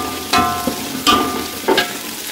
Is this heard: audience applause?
no